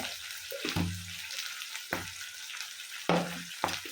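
Curry leaves, garlic and ginger fry in hot oil for a chilli pickle, a soft sizzle broken by several distinct scraping stirs of a spoon against the pan, close up and without talking.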